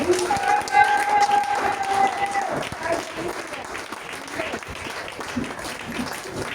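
Church congregation clapping and cheering in praise: a dense, steady round of applause fills the space while a voice speaks over it.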